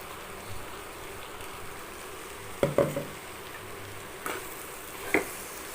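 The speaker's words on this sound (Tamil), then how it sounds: "இப்போ வந்து இந்த மசாலாவை போட்டுக்கலாம் அரைச்சி வச்ச மசாலாவை போட்டுக்கலாம்" Ground masala paste frying in a pan for a gravy, a faint steady sizzle broken by a few louder stirring scrapes and clatters near the middle and end, with no talking.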